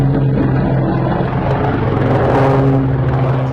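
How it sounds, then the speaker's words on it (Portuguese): A small airplane plunges from the sky just before crashing into a rural residential area, a steady, loud, droning engine roar that holds constant throughout with no voices. "Perceberam o avião despencando do céu."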